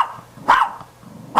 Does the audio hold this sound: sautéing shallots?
no